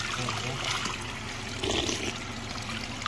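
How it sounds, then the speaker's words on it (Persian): Water flowing from the Qal'ai Naw mountain spring in Tajikistan, a steady close trickle and splash running without pause, moderately quiet, with no voices. "یکی از چشمه های بهترین وطن تاجیکستان"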